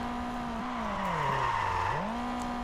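Car engine in the racing video game Street Legal Racing: Redline, a steady, loud drone that rises and falls as the revs shift, dipping low before climbing again, with no talk.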